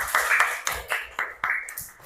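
A primary school class claps hands together in a quick, steady rhythm of sharp claps over a roomy background, fairly loud and close throughout.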